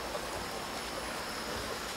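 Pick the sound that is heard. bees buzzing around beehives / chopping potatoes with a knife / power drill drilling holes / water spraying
water spraying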